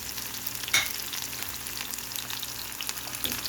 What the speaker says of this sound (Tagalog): nakita na natin na medyo gisa na ang sibuyas